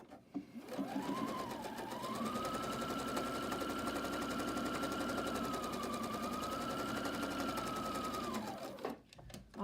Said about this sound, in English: And then I'm going to stitch